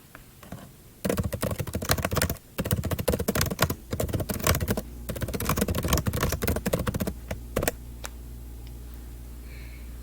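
Fingers type a chat message on a computer keyboard in bursts of rapid, close key clicks, with brief pauses between runs and a final pair of taps before quiet room tone.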